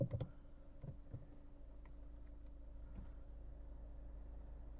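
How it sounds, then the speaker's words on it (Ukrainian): A Skoda Octavia engine idles steadily with a low, even rumble and faint ticking, the revs holding constant, close by with no one talking. "двигун працює чітко, оберти не плавають"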